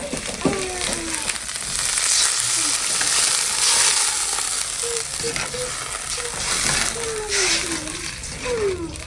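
Steady crackling sizzle of food frying in hot oil, continuous and close, with faint stirring and brief voices in the background.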